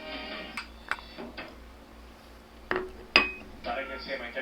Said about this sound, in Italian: È il rumore della tazzina del caffè sul piatto.